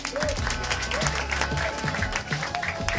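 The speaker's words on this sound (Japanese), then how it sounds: "イエーイ、大きな拍手。" Audience applause and cheering at a live rap battle final in an Osaka club, heard in a short burst over a pounding bass beat, with a voice talking over it.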